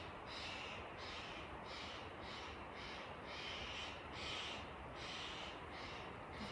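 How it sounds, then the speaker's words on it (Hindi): Crows caw and other birds chirp outdoors in a repeating rhythm of bursts, moderately near, over a constant background hiss with no talking. "तभी पक्षी इतना चहचहा रहे हैं।"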